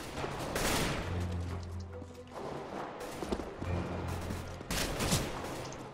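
Gunfire in the CS:GO video game on a tablet: several bursts of rapid shots with loud cracks, clustered near the start, middle and end, over a steady low in-game hum, with no talking.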